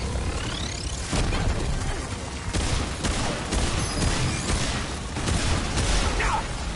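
Dense bursts of gunfire with booming impacts from the video game Remnant 2, loud and chaotic, with a voice speaking among the shots.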